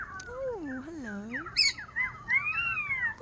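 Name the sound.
bird singing and squawking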